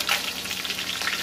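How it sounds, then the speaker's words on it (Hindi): Chopped onion frying in a pan until golden brown for kofta curry, a steady close hiss and crackle of hot oil with faint stirring, no voices. "अब मैं इसको गोल्डन ब्राउन होने तक थोड़ा सा फ्राई करूँगी"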